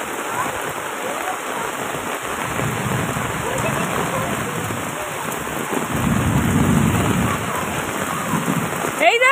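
Heavy rain pouring down in a thunderstorm, a dense, steady hiss of drops on surfaces that swells slightly toward the end, with brief voices at the close.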